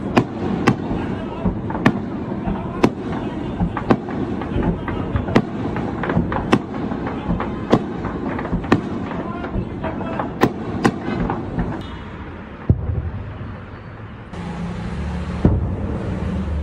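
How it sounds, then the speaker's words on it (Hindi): Sharp explosive bangs from drones being shot down over Jammu and Kashmir, a dozen or more sudden thuds and cracks spaced irregularly through a steady rumbling background, fairly loud and distant-sounding, with voices faintly present. "मैं कुछ देर पहले जो ड्रोन अटैक हुए हैं और उनको जिस तरह से खत्म किया गया है उसकी तस्वीरें भी हैं और उसमें आपको धमाके भी सुनाई देंगे।"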